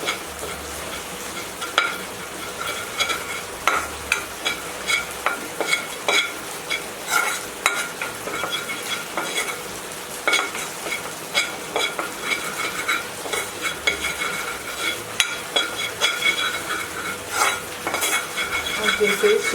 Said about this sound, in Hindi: इसको सौटे करेंगे